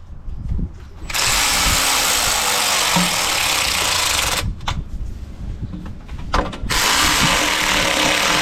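A power tool, likely a ratchet or impact driver, runs up and stops on 10mm bolts holding an oil pan with its gasket, giving a couple of loud sustained whirring bursts close by with short pauses between.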